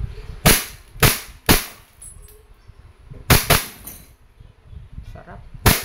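An Umarex Glock 17 Gen 4 airgun fires 4.5mm steel BBs in five sharp, loud cracks, three in quick succession and then two more after a pause, each with a brief metallic snap.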